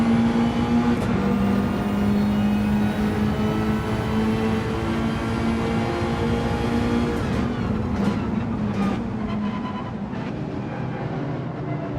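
A Porsche racing car in Gran Turismo 7, driven in an online lobby race, gives a loud, close engine drone with steady harmonic tones that waver and climb with throttle and gear shifts over twelve seconds. No one speaks.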